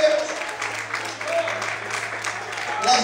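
A church congregation applauds during a worship service, with steady, dense clapping throughout and voices mixed in.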